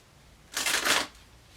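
A deck of tarot cards gets one brisk riffle shuffle up close, a single papery flutter lasting about half a second in an otherwise quiet room.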